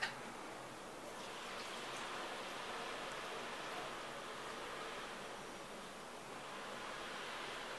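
Water is poured out of a container holding a sprouting coconut, leaving a little in the bottom; a soft, steady splashing wash of water runs continuously and fairly quietly, with no talking.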